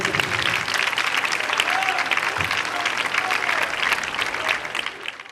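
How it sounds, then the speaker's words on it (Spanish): Applause from the audience at a school's 25th anniversary ceremony, steady dense clapping lasting about five seconds with no speech over it, then tapering off at the end. "De totes maneres, un fort aplaudiment per a ella."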